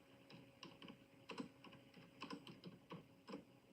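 Computer keyboard typing during a class lesson on the adrenal gland, with irregular bursts of quiet clicky keystrokes, some clustered in quick runs, close and fairly faint with no talking.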